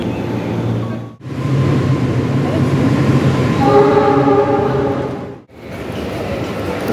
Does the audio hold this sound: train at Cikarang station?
yes